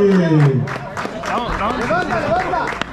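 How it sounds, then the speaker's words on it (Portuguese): Crowd clapping and cheering for the Elite category winners at a cycling road race awards ceremony, loud at first and then continuing under excited shouting voices. "Vamos aplaudir a categoria Elite!"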